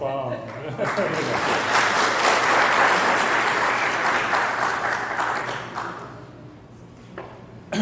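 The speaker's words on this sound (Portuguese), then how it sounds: "Você merece. Palmas." Concert audience at a solo classical guitar recital claps warmly, rising quickly and holding for several seconds before thinning out into a few scattered claps near the end.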